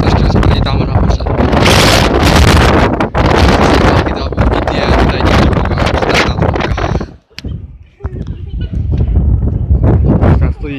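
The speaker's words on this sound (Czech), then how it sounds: "tady teda pěkně fičí, tady je docela zima" Strong gusts buffet the microphone on an exposed lookout walkway high in the air, roaring loudly and dipping briefly near the end, while a person talks over the blustery noise.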